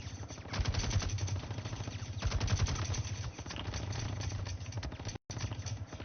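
Sustained machine-gun fire in the WARNO war game, fast rattling bursts of many rounds repeating steadily at moderate loudness, with a brief cut near the end.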